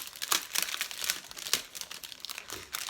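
Crinkly plastic wrap being torn open on a Carta Bella Home Again scrapbook paper collection pack with stickers, a steady run of close crumpling and rustling bursts with no talk.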